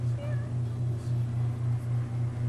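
A cat meows a couple of times, short rising calls over a steady low hum, fairly close and moderately loud.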